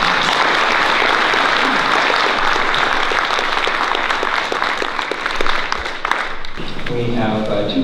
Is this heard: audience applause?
yes